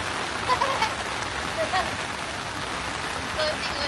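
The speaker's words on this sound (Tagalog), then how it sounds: "Konting ulan lang ito, guys." Light rain falls steadily and close by, a soft even patter with a few distinct drops landing.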